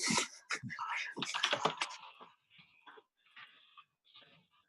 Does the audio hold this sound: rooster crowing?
no